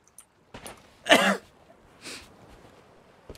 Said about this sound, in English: I've developed a cough.